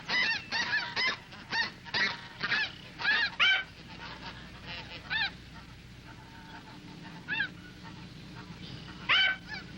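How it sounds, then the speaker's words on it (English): A flock of snow geese honks over a Texas marsh, bursts of layered calls rising and falling in repeated clusters, moderately distant with quieter stretches between, no talking. "a huge flock of birds are sighted"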